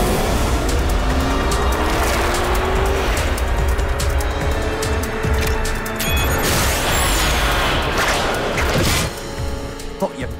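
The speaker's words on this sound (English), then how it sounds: "Activating the supercharger." Cartoon vehicle speeding hard with a supercharger kicking in, a loud continuous engine roar with tire squeal and racing whooshes, dense effects filling the scene throughout.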